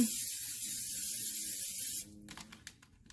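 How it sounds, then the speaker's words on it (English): A steady hissing spray of non-stick cooking spray into a pan lasts about two seconds, then stops abruptly, followed by a few faint clicks and light handling noises. "Just a little bit of non-stick cooking spray in my pan."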